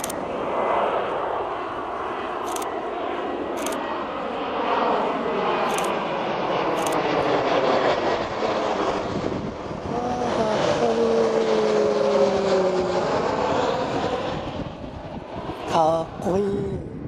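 An airplane drones loudly for a long stretch over Jonanjima, Tokyo, its engine whine rising and then sweeping downward in pitch as it passes.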